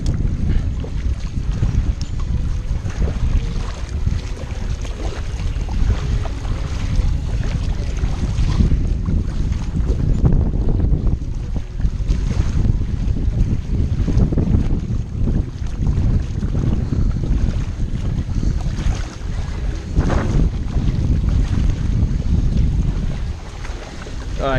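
A small boat rides out on open sea in strong wind, with steady, loud wind noise and water rushing around the hull throughout, with no talking.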